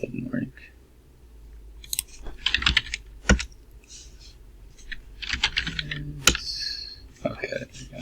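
A command typed on a computer keyboard at a command prompt, heard as scattered close key clicks and taps among other small handling noises and some background murmur.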